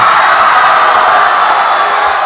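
Delegates at a Busan vote-count event for the Democratic United Party's presidential primary clap and cheer: a dense, loud wash of applause and whoops from a large hall crowd, sustained throughout.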